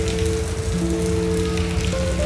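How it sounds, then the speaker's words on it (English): Rain falling at night in Cartagena, a loud steady wash of rain on surfaces, with sustained tones running underneath throughout the short stretch. "And it decided to rain."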